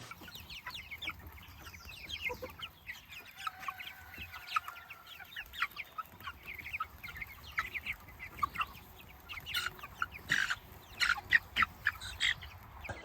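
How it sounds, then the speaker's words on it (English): Meat chickens on fresh grass cluck and chatter in a steady stream of short, overlapping calls, fairly close but soft, with the flock growing busier toward the end. "Those are some happy meat birds."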